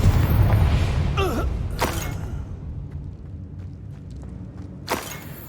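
A deep booming blast from the Confringo fire spell in the game Hogwarts Legacy, a loud rumbling impact at the start that fades into a long low tail, followed by a couple of sharp cracks.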